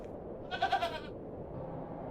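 A goat bleats in the point-and-click adventure game The Excavation of Hob's Barrow, one short wavering cry of about half a second, moderately close, over a faint steady background hum.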